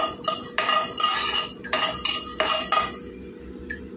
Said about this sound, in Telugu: వేపుకోవాలండి, కొద్దిగా మాడకుండా వేపుకోవాలండి సిమ్లో పెట్టుకొని